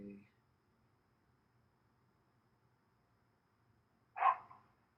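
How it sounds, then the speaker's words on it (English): A dog barks once outside, a short muffled bark at a distance after a long quiet stretch, heard from indoors. "Somebody always walks their dog and it barks at other dogs"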